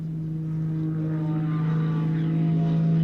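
Aerobatic plane powered by an 8.5-litre Lycoming IO-540 six-cylinder engine, a steady droning engine and propeller tone that slowly grows louder as it approaches, heard alone.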